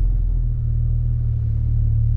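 A car exhaust with a fault gives a steady, loud low rumble that holds evenly through the whole moment, with no voices over it.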